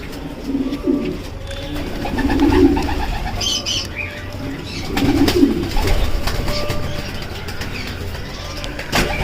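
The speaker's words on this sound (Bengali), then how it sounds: "তো কিছু কবুতর আপনাদের ক্লোজ দেখানোর চেষ্টা করতেছি" Racing pigeons in a loft coo in repeated low, throaty bursts, several birds overlapping at close range with occasional wing flutters and background rustle, no talk over them.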